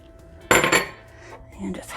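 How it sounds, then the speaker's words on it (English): Chopped onion folded into mashed guacamole in a bowl: one loud scrape and clatter of a utensil against the bowl, then softer mushy stirring, close up. "All right, fold in our onion now."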